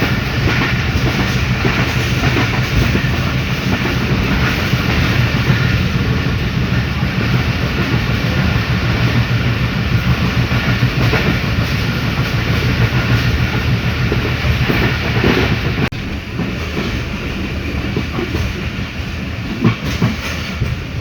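The Tezgam Express runs from Karachi toward Lahore with a loud, continuous rumble and rhythmic clickety-clack of wheels on rails, heard from inside the train and steady throughout with a brief dip in level near the end.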